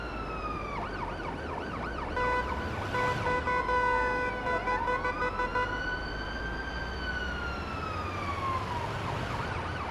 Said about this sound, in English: we are using the Ottawa siren. I think it sounded a little bit better than the San Francisco one